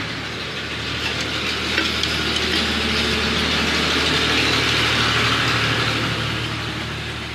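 A Honda CD 70 motorcycle engine runs at a steady idle after tuning, a close, even putter with a constant hum that continues throughout with no talking.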